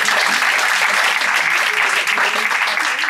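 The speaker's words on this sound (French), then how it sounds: "Justine, on peut applaudir très très fort." Loud, sustained applause from an audience at an improv comedy show at a festival in Avignon, dense steady clapping filling the room throughout with no pauses.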